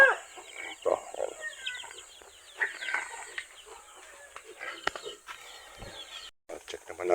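Chickens clucking on a small farm, including hens, with a rooster crowing partway through, irregular close bursts of clucks and squawks, and a person talking quietly in between.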